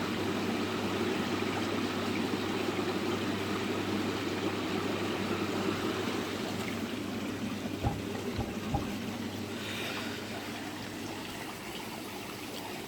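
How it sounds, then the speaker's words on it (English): An old garden pond filter bubbles and trickles steadily, giving a continuous close water wash with a few faint knocks partway through. "The old filter in there bubbling away nicely."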